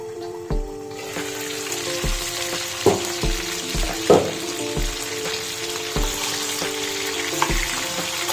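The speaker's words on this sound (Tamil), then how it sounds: "நல்லா வதங்கிடுச்சு நல்லா ஃப்ரை ஆகிருக்கு பாருங்க" Chicken fries in a pan over medium heat for a simple chicken fry, a constant sizzle broken by regular spatula taps and scrapes about once a second, near and clear.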